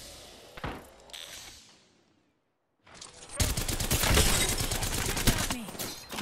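Dense enemy gunfire in Apex Legends, a rapid burst of shots early on, a short pause, then a loud sustained fusillade of close automatic fire with mechanical clatter.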